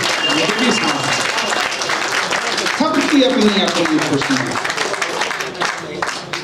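Audience applause at a live Hindi poetry gathering and literary award ceremony, a broad burst of clapping from the crowd heard under and between a man reciting verse.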